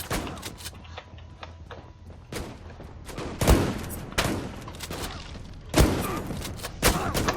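Pump-action shotgun blasts ring out in the online shooter Zula, with several sharp, loud shots spaced irregularly among quieter thuds and distant gunfire from the match.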